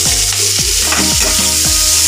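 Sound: chopped onions frying in pan for crab curry

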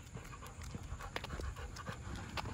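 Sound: Rottweiler dog panting on a morning walk

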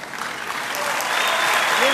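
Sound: audience applause for the jury

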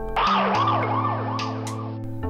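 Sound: ambulance siren passing, pitch dropping (Doppler effect)

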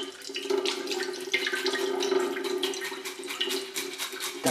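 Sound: water running while washing fish

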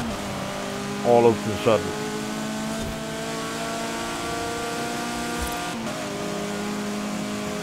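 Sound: Subaru car engine in video game Forza Horizon 4

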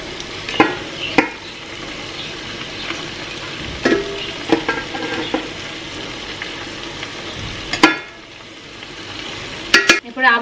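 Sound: rice being added and spread into chicken biryani pot

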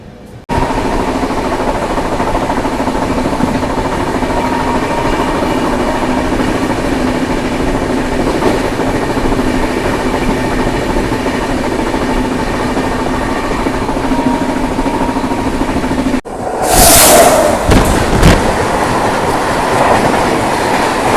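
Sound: passenger train accelerating on tracks

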